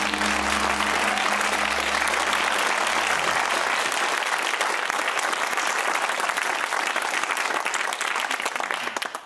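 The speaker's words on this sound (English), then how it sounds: "it's very sporting you to applaud Bristol" Studio audience applause on a university quiz show, loud, dense and sustained throughout, with a low hum fading out partway through.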